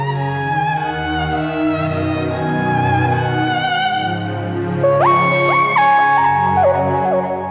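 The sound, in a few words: keyboard string voice playing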